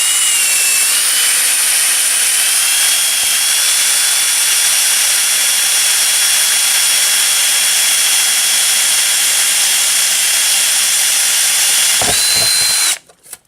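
A power drill bores through two layers of steel amplifier chassis, a loud, close, unbroken high whine that holds steady for over twelve seconds before the bit breaks through and the motor cuts off with a brief rattle.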